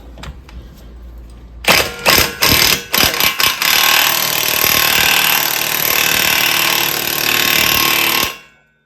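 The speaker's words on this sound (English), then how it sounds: "that axle nut is a 30 millimeter, what was that, a 12-point socket? So let's see if we can get it off." An impact wrench hammers at a 30 mm axle nut through a 12-point socket on a 2020 Toyota Corolla LE, starting with a few short loud bursts, then one long sustained rattling run before stopping.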